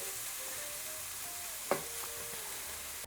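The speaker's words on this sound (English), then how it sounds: "we'll cook these for a couple of minutes now on a fairly low heat, just to cook out those seasonings, the dry spices, also the tomato puree" Oyster mushrooms frying on low heat with dry spices and tomato puree give a soft, steady sizzle with a single brief clack of a utensil partway through.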